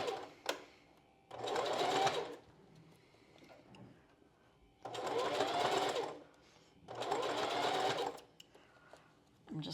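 Sewing machine stitching channeling onto a strapless bra, three bursts of rapid mechanical whirring and needle clatter separated by quiet pauses with faint handling noise and some talk between them.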